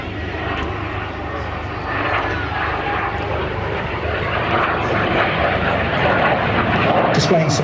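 A Strikemaster jet aircraft roars through a display at an airshow, its engine noise steady and building slightly as it passes, with a commentator talking over the sound throughout.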